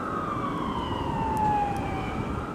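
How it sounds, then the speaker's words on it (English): Emergency vehicle siren wailing steadily through a thunderstorm in Bloomington, its rising and falling tone sustained for the full stretch over a constant rumble of wind and rain, moderately loud. "Sirens sounding between streaks of lightning"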